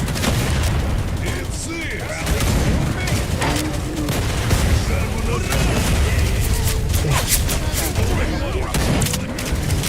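Dense gunfire from a shooter video game, with bursts and booms layered continuously over a busy battlefield mix, loud and sustained throughout.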